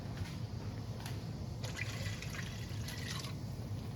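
Water streams steadily into a measuring cup, a close, continuous trickle with a few brighter splashes partway through, and no voices.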